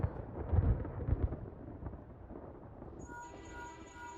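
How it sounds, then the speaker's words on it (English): Thunder rumbles low and heavy through the first second and a half of a gathering storm in Final Fantasy XIV, then fades as soft sustained game music tones take over. "Thunderclouds are gathering above the southern front, and a nasty downpour won't be far behind."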